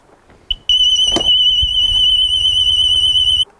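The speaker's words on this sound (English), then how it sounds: "enable the alarm, which detects if the mower has been picked up or tilted" A short electronic beep, a click, then a loud, steady high-pitched anti-theft alarm tone from a robotic lawn mower sounds continuously for about three seconds before cutting off abruptly.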